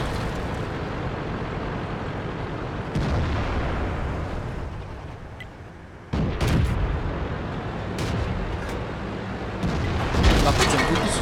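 Tank cannon fire in World of Tanks from a Churchill III, heavy booming shots with rumbling tails over continuous battle noise, several loud blasts spaced a few seconds apart.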